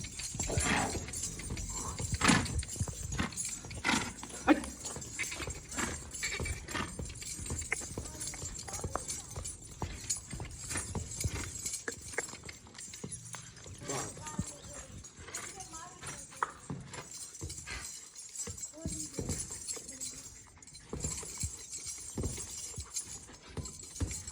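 A mare's hooves clip-clop in a continuous stream of close knocks under frequent talking, with faint jingling and other outdoor bustle around a wedding procession.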